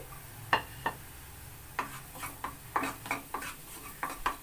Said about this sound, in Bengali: ঠিক একই রকমভাবে বাকি পিঠেগুলোকেও আমি ভেজে নেব এই তেলের মধ্যে